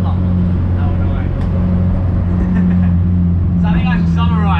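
K20-swapped Honda Civic EG under acceleration, a steady low engine drone with road rumble heard from inside the cabin, with a voice talking over it throughout.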